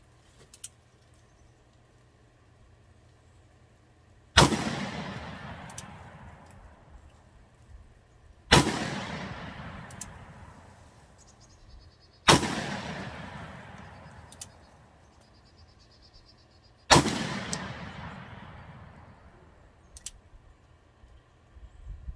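Four loud handgun shots fired one at a time at a pineapple target outdoors, each a sharp crack with a decaying tail, spaced about four seconds apart with quiet between.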